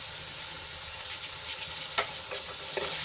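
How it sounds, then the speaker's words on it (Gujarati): Brinjal, peas, chili-garlic paste and chopped tomato sauté in hot oil for a Kathiyawadi-style curry, giving a steady close sizzle with a few brief stirring scrapes, alone and without talk. "સરસ રીતે મિક્સ કરીને થોડી વાર માટે સાંતળી લઈશું"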